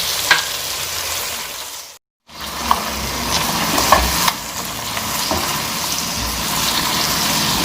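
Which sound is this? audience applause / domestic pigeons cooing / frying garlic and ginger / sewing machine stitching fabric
frying garlic and ginger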